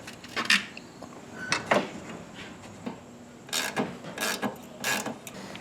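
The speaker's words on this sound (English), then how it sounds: "So put the 3 bolts in and tighten those down." Tightening bolts on a headlight motor bracket of a Firebird Trans Am: a few faint metallic ratcheting and scraping bursts, close by and intermittent, with no talking.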